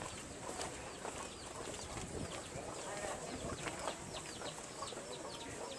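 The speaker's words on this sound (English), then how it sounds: "look, it's a little chicken." A small chicken clucks and chirps outdoors in Old San Juan amid constant background noise and bird calls, with faint voices nearby.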